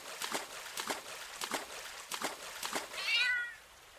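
A single short meow from a cat in a video game follows a run of soft, evenly spaced ticking taps, fairly quiet and close.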